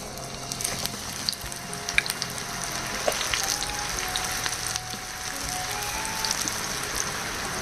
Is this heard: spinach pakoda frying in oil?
yes